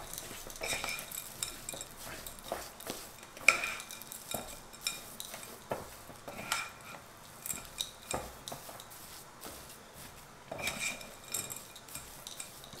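A spoon scrapes and clinks against a bowl while keto cookie dough is mixed, giving irregular scraping strokes and light knocks at close range with no talking.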